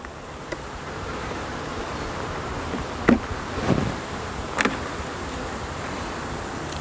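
A steady insect hum fills the air, a low continuous buzz of many honey bees at top bar and Langstroth hives, with a few brief louder passes close by.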